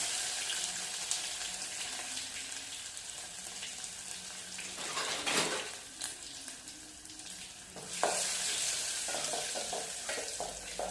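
Garlic sizzles steadily in hot tempering oil for a bitter gourd sukka, a continuous close frying hiss that swells briefly around the middle and again near the end, with no voices.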